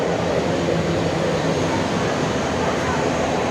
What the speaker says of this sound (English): This plane is big.